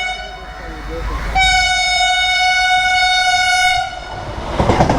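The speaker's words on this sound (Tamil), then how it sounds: "அந்த ட்ரெயின் என்ன ட்ரெயின் அது" A train horn sounds in a long steady blast over the rumble of rail cars rolling past close by, with wind noise throughout.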